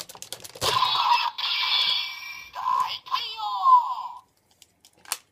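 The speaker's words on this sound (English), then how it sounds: "it does a transformation noise to Daikai-oh" A Shinkenger Daikai-oh toy gives off its electronic transformation effect, a few seconds of bright, tinny synthesized noise and chimes from a small speaker, close up, followed by a short click.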